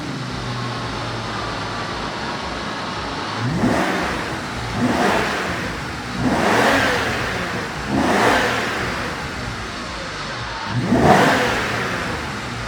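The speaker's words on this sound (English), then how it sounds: "that Rentech exhaust, it is one of the most unique sounds that you will hear." 1997 RENNTech SL74 V12 breathing through its RENNTech exhaust, revved five times in evenly spaced swells that rise and fade over a steady idle, close and fairly loud.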